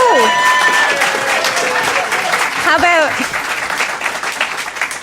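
A studio crowd at a live podcast show applauds and cheers, a loud continuous clapping wash with whoops and voices calling out over it, easing off toward the end while people talk.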